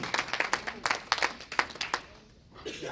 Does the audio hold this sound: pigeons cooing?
no